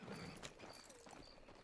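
Horse hooves clip-clop at a steady walking pace in the Red Dead Online game world, fairly soft and close, with faint ambient game sounds behind the steps.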